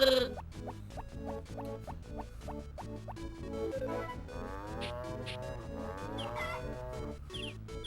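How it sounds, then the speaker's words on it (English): A sheep in the Game Boy Advance farming game Harvest Moon: Friends of Mineral Town gives wavering bleats in the second half, set against steady looping chiptune music. "There he goes, finally saw it. Ramirez the sheep."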